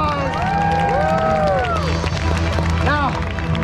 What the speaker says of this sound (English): Folks, they did it, give them a round of applause.